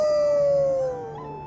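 A single dog howl from Thronebreaker, a long clear tone held steady and then sliding slowly downward before fading, heard alone and close.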